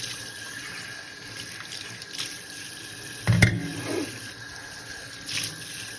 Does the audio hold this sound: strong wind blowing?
no